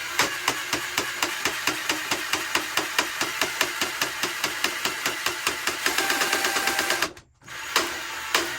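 A Ryobi 18V drain auger works down a clogged shower drain, its motor whirring steadily under a fast, regular clatter of cable knocks, close and fairly loud, with a brief stop near the end before it resumes.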